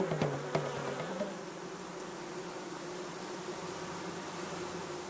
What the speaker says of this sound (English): The queen flies back to the hive immediately